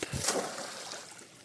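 Bait balls kicked into a small fish pond make a splash and slosh of water, one close burst at the start that fades into a soft trickle.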